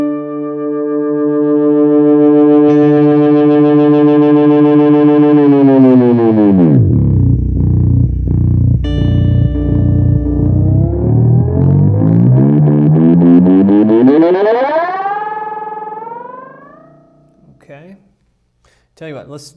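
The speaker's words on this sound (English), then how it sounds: "we can get that runaway when we turn the feedback all the way up" A Moog Minifooger MF Delay guitar pedal with feedback turned all the way up spirals into runaway self-oscillation, a loud sustained tone that sinks into a low rumbling warble and then sweeps back up before cutting off.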